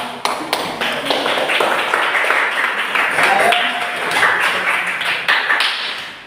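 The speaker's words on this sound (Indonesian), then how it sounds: "Tepuk tangan untuk kita semua." Classroom applause from a group of students, a busy patter of clapping hands running steadily throughout, moderately loud and close with some voices mixed in.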